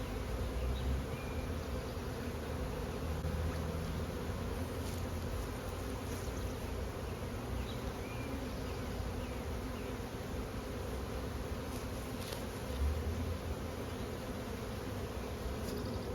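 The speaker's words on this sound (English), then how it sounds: "these bees are steadily moving into their new hive" A dense, steady hum of a honey bee swarm moving into a new hive fills the scene continuously, with no voices.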